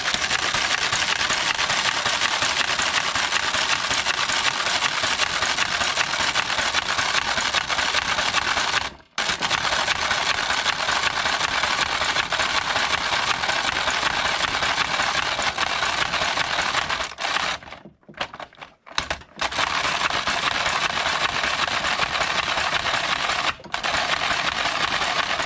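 A Passap E6000 knitting machine carriage knits ribbing for a baby vest, giving a dense, steady mechanical clatter and whir that is loud and close, briefly interrupted twice.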